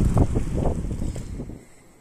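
Strong wind buffeting a microphone while cycling outdoors, heavy low rumbling gusts that pulse irregularly and then ease off toward the end.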